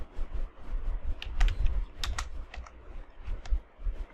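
Fast, uneven keystrokes on a computer keyboard, close and fairly quiet, forming short bursts of clicks with slight pauses between them.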